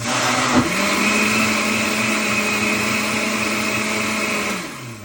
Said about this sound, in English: I'm going to stir, I'm going to mix up the pulp on the side here